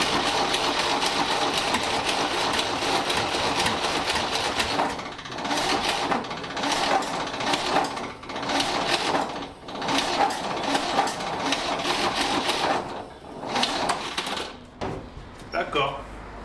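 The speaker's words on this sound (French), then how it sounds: "On va mettre un coup de démarreur, on va voir." Starter motor cranking on a Panhard PL17 engine with the carburettor open, a rapid mechanical whirring churn running steadily with brief pauses and restarts, close and fairly loud.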